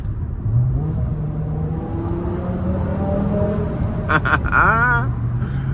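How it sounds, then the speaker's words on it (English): A BMW E60 M5 engine hums steadily, then downshifts under a bridge with a quick burst of revving and a rising whine near the end. "under here, I will downshift and you'll hear."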